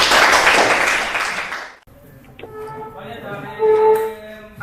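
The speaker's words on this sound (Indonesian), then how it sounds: "Tepuk tangan untuk kelompok 3." Students in a chemistry class applaud a presenting group, a burst of clapping that stops abruptly after about two seconds, leaving quiet room tone with faint voices and tonal sounds afterward.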